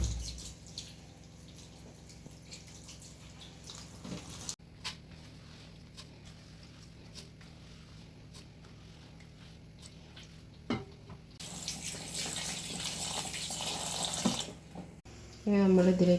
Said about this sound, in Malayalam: ഇനി നമ്മളിത് കഴുകി വൃത്തിയാക്കാൻ പോവുകയാണ്.